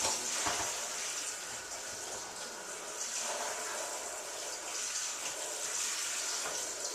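Hot water runs steadily from a tap, a continuous hissing splash that stays even throughout, close and moderately loud.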